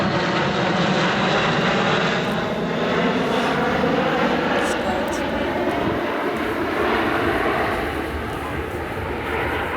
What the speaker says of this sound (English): And following them in, test pilots Ed Strongman and Anthony Flynn with the Airbus military A400M, now known as the Atlas.